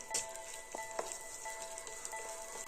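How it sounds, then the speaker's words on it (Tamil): Curry leaves and chopped onions fry in hot oil for a Tamil kadappa. A faint, steady sizzle is broken by a few soft stirring knocks, with no voices. "கருவேப்பிலை லைட்டாக வதங்க ஆரம்பித்தோன்னே நம்ம கட் பண்ணி வச்சுருக்க ஆனியனை சேர்த்துக்கலாம்."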